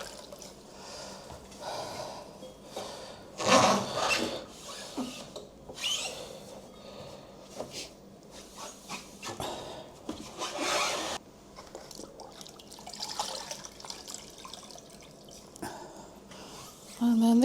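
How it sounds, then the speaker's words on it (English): A damp sponge wipes wet clay off a pottery wheel while it is being cleaned, giving soft irregular rubbing and squelching strokes with brief louder swipes and a squeeze, all close and fairly quiet. "You're actually trying to sort of like wipe the clay up and let it soak into the sponge a little bit now."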